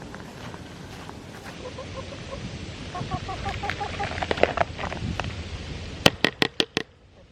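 Hens cluck in soft, repeated bursts amid busy farmyard rustling as they are fed kitchen scraps, followed near the end by a few sharp knocks.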